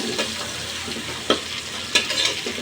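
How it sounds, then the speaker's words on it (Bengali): Prawns frying with onions in a pan for a prawn noodle dish, a steady close sizzle with stirring scrapes and two sharper clatters of a utensil against the pan, no voices. "পেঁয়াজের সাথে আমি যেহেতু চিংড়ি মাছ দিয়ে রান্না করব, চিংড়ি মাছগুলো দিয়ে দিচ্ছি"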